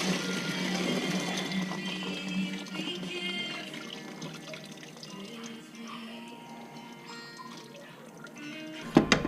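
Hot coolant drains from a 2014 Volkswagen Tiguan, a steady trickling, splashing flow of liquid close by that runs on evenly, then ends in a few sharp knocks.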